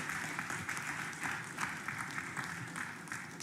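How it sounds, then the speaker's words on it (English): A school audience at an inter-school public speaking competition applauds a student speaker, steady dense clapping throughout at moderate distance, no voices over it. "She deserves another round of applause."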